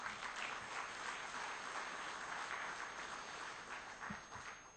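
Applause from a seminar audience at a defence keynote address, steady broadband clapping at moderate distance that holds evenly for about five seconds and thins slightly near the end.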